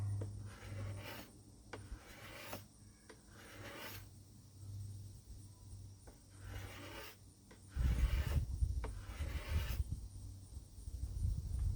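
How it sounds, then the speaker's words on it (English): A scraper works the limb of a 72-inch red oak board longbow in repeated rasping strokes, each a short dry scrape separated by brief pauses, close up and moderately quiet, growing rougher toward the end. "I'm almost done scraping what I had marked"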